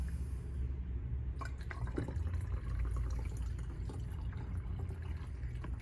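Distilled water pours steadily through a funnel into a container, a continuous trickling gurgle close by with occasional drips, no voices.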